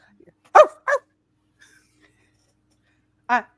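A voice imitates a dog barking in a comic-book audio drama, giving two quick gruff barks close together and then, after a pause with faint background sounds, one more single bark.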